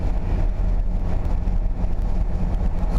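Classic black Fiat 500 with a 25-horsepower twin-cylinder engine driving, a steady loud low engine drone with road rumble running throughout without a break.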